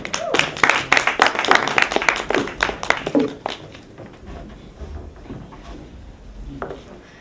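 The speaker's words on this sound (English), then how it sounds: "Give them a round of applause again." Audience applause at an African Union expo contestant event, with a burst of dense, close clapping that fades after a few seconds into a quieter murmuring room.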